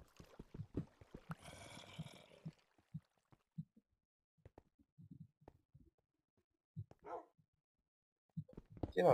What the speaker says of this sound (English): Stop barking, Xander.